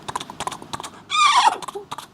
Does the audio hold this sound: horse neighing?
yes